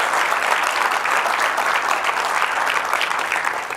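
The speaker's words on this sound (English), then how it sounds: "let's give Gavin another round of applause for doing that." Steady applause from a cancer conference audience, dense continuous clapping at an even loudness throughout, with no voices standing out.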